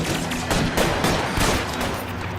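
Gunfire from the video game LA Noire, a dense, continuous burst of overlapping shots and rapid fusillade that stays loud and steady throughout, with no talk.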